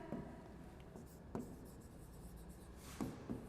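Pen or chalk scratches out handwriting during a physics lecture, a few short faint strokes spaced apart in a quiet room.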